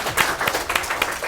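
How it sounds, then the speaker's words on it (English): A brief burst of applause from a small audience, scattered claps rising and falling over about a second, fairly close. "A round of applause for her."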